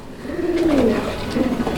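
Low, throaty coos from racer and exhibition pigeons close by at a pigeon farm, a soft rolling call repeated twice with no talking.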